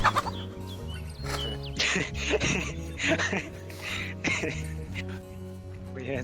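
Chickens clucking in the video game DayZ, with several short, sharp clucks and squawks in bursts over a steady game hum while people talk.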